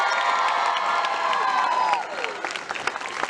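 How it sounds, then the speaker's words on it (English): A crowd out on a street scene claps and cheers to welcome someone, the applause broad and lively with whoops over it, then thinning out partway through. "Same guy, same person, two times the clapping."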